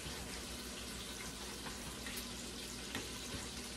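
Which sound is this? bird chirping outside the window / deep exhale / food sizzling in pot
food sizzling in pot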